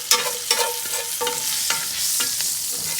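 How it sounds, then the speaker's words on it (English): A butter, garlic and rosemary sauce is stirred in a pan on low heat beside a T-bone steak, the spoon scraping in repeated strokes over a constant close sizzle, with no voices. "Just mix it around with the butter and the garlic and the rosemary sauce if you have"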